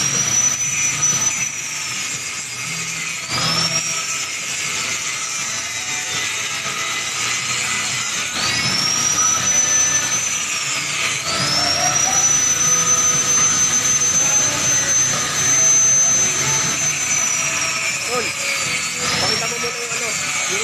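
A coupled set of three 3HP engines drives a farm water pump during a test run in Cabugao, Ilocos Sur. A loud, continuous mechanical drone with a high whine runs throughout while people talk nearby.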